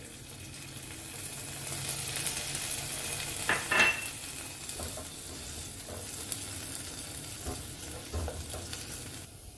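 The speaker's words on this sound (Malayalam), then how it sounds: "ഇനി ഇതിലേക്ക് അല്പം പിഴിഞ്ഞു വെച്ചിരിക്കുന്ന ലൈം ജ്യൂസും കൂടെ ചേർത്ത് കൊടുക്കാം" Lime juice is poured over quinoa in a hot pan and stirred in, bringing a steady frying hiss with a brief louder splash and scattered spoon scrapes, close, with no voices.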